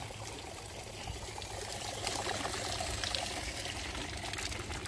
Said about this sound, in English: So you can see some of the water coming through the strainer being pumped out.